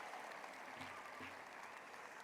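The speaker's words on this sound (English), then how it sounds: "So give yourselves a round of applause for making it to making it here." Graduates and guests applaud at a law school spring convocation, a steady wash of clapping heard faintly and at a distance throughout.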